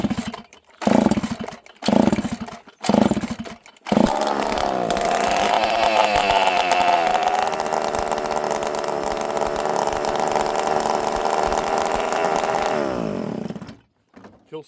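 An old chainsaw with no muffler, bought for rebuilding, is pulled several times with short sputters, then fires and runs loud and raw, revving and holding a rough high idle for about ten seconds before dying away.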